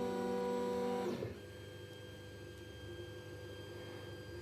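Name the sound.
Tronxy X5SA Pro 3D printer moving Z axis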